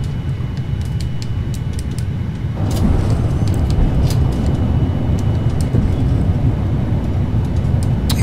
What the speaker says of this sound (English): We have touchdown.